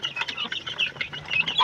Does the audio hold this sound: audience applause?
no